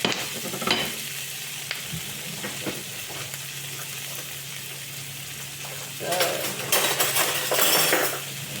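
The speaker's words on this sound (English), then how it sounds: "put some butter in, rosemary and thyme, and garlic" A steak fries in a pan with butter, rosemary, thyme and garlic, sizzling steadily up close, with stirring and a louder burst of spattering toward the end.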